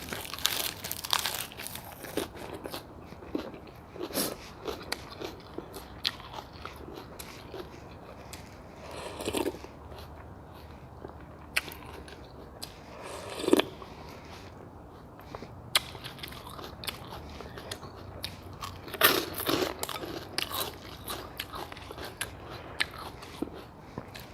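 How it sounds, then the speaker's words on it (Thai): Crisp lettuce and fresh vegetables are bitten and chewed alongside a bowl of pork noodle soup, giving repeated close, crunchy bites and crinkly chewing at an uneven pace over about twenty seconds, with no talking. "ผักอันนี้ก็กรอบกับผักกาดหอม"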